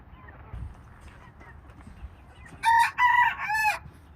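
A rooster crows loudly and close by, a harsh three-part cock-a-doodle-doo, after a few seconds of quiet yard noise.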